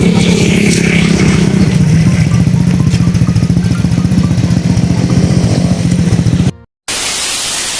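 A motorcycle engine runs steadily up close while riding on a mountain, a low throbbing drone with wind noise, then briefly cuts out before a rougher burst of noise.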